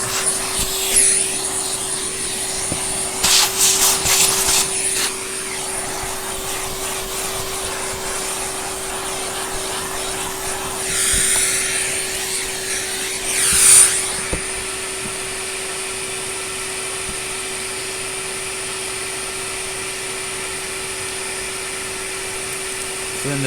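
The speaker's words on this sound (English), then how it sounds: "Let's just vacuum off the rest of the crud" Hoover Turbopower Junior U1220 vacuum cleaner, under refurbishment, running steadily with a constant motor whine, punctuated by several brief louder bursts of suction rushing as debris is pulled in, near and fairly loud, no talking.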